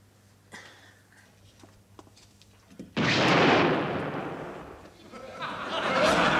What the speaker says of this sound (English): The deodorant blew up.